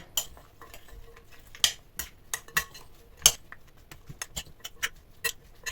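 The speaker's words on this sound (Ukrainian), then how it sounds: "добре перемішуємо" Soy sauce mixture being stirred in a bowl with a utensil, giving sharp clinks and taps scattered at an irregular pace, fairly close and quiet, with no talking.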